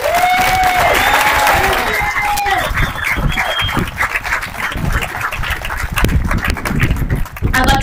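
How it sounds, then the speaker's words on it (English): Crowd applause and cheering at a high school graduation ceremony in Reno, Nevada, with steady clapping throughout and a few high whoops and voices mixed into the noise. "Give yourselves a round of applause."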